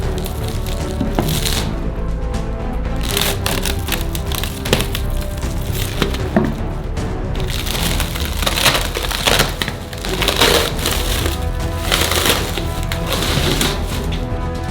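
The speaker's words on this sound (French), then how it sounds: "On n'a plus besoin des parois en bois, alors on les enlève." Wooden mould walls are pulled off and broken away, giving loud repeated cracking, splintering and creaking wood sounds in irregular bursts throughout, close up and with no talking.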